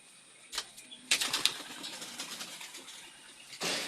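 Racing pigeons circle overhead in a warm open sky, their wings giving bursts of broadband flutter and flapping, loudest near the start and again at the end, over a soft steady background hiss.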